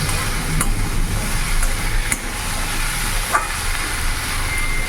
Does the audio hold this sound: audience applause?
no